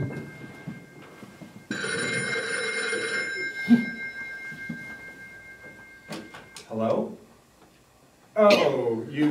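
A telephone rings in a stage production of Harvey, a bright trilling ring lasting about two seconds, followed by people talking with short sounds between their words.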